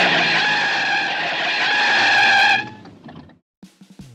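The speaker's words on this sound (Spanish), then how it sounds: "Es el auto de la malvada Cruella de Vil." Cruella de Vil's car from 101 Dalmatians lets out a long, loud tire screech for about two and a half seconds, then cuts off abruptly, followed by a few faint knocks.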